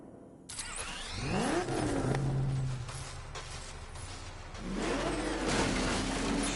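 A car engine in the Batman Arkham Knight video game starts and revs, rising and falling in pitch with whining sweeps, loud and close, surging again near the end.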